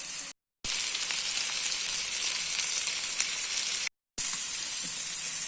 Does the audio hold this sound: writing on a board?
no